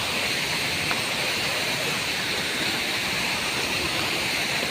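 Mount Tayupan Falls pours in a dense, unbroken roar of falling water, loud and close, a constant hiss that fills the whole scene without pause or voices.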